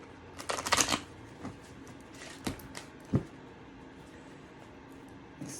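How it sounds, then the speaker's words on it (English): Tarot cards being shuffled in several quick riffled bursts, close and fairly quiet, with short pauses between them. "Give these cards a good shuffle."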